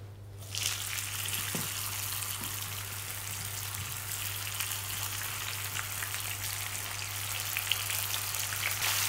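Salmon strips sizzle in hot frying oil, starting abruptly and continuing as a steady, bright crackling hiss with a low electrical hum underneath.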